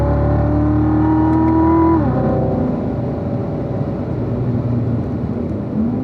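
A race car on a track brakes hard in a straight line as the engine drops sharply in pitch through a downshift, then settles into a loud, rough low rumble with a blip near the end.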